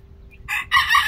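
A rooster crows once, close and loud, a short bright call in two rising parts over a faint low hum.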